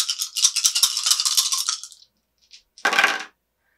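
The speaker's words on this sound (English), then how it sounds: "pick up these five dice and roll all of them" Five dice from the Marvel Dice Throne board game are rolled across a table, a dense clattering rattle for about two seconds, then a brief second burst of clicks as they settle; no talk.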